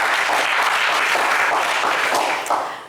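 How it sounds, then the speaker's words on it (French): Audience applause fills a French game show studio, a dense sustained wash of clapping that tapers off near the end. "Allez, vous méritez des applaudissements."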